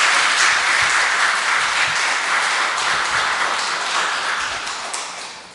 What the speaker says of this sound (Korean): 우리를 위해서 특별 연주를 해주신 우리 앙상블에게 큰 박수 한번 다시 드리죠